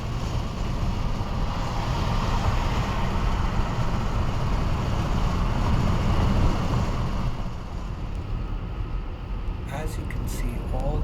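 A New York City taxi speeds along an open, empty road near LaGuardia Airport, giving a steady loud rush of road and wind noise throughout, with faint clicks near the end.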